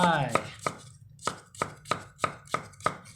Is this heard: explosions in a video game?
no